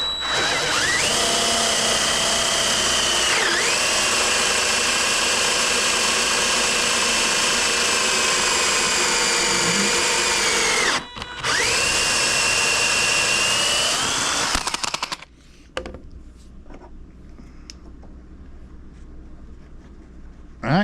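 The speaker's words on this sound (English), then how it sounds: "So I just switched out drills." Corded power drill spinning a bit, a loud continuous whine with a brief pause near the middle, then stopping and leaving quieter clicks and handling noises.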